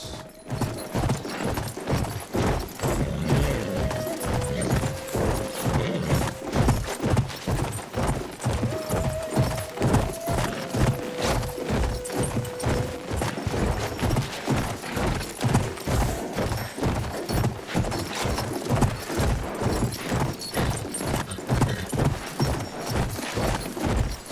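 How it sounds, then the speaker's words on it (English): In the Battlefield 1 game, a horse gallops at a fast, steady clip-clop for a long stretch. The hoofbeats sound close and loud, with faint tonal sounds drifting in the background. "On my horse."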